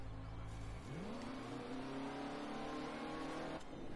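A race car in Motorsport Manager revs up and drones past in traffic, engine tone climbing and then holding steady, fairly clear with no voices.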